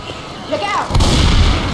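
Gunfire in Left 4 Dead 2, a loud, close shot that cracks sharply and then rumbles on through the rest of the moment. Some faint game chatter and noise come just before it.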